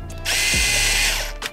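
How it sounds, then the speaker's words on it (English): A power drill whirs loudly for about a second, winding up sharply and holding a steady high whine before stopping, drilling a screw hole while fitting a carbon fiber wing and front splitter to a new Toyota Supra. "and then just drill another hole"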